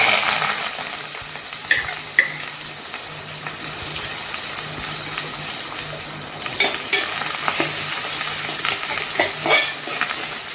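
Onions frying in hot oil with mustard seeds, cumin and curry leaves for a Nellore-style small fish curry give a steady close sizzle, with occasional spoon scrapes and clinks against the pan and no voices.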